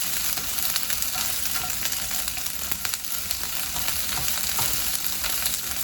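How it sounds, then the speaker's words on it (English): Onions sizzle steadily in a hot frying pan for a Peruvian portobello saltado, a dense continuous crackle with small pops and occasional stirring, close and loud, no talking. "So now we're going to put the onions in here, and you're gonna hear that sizzle that everybody loves."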